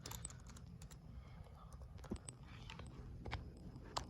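Computer keyboard typing at a desk, a quick run of light irregular clicks and taps, close and fairly quiet, with no talk over it.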